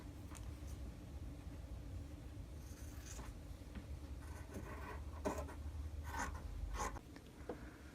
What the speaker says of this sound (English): Now I'm just going to cut the excess away